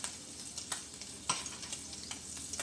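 Swedish meatballs sizzling and spitting in a hot pan, with soft clinks and scrapes as they are stirred and lifted out; steady close frying hiss throughout, no voices.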